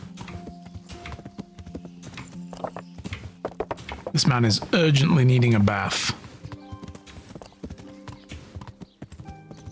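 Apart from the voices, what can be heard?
horse hooves galloping, from the video game Kingdom Come: Deliverance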